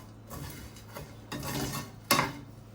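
Dry fruits being stirred and lightly roasted in a pan for mevapak, giving soft scraping and stirring noises with a few louder bursts, close and quiet with no talk.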